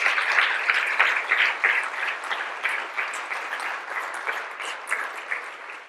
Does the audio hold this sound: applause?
yes